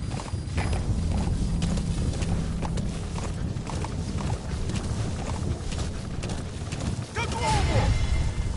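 A horse gallops in Metal Gear Solid V, with steady rhythmic hoofbeats thudding close and loud beneath constant broad ambient noise, and a brief snort or whinny near the end.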